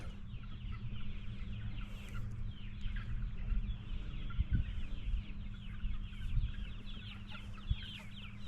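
Several chickens cluck steadily over a low, constant hum, with occasional louder squawks nearby and a busy, overlapping rhythm of calls.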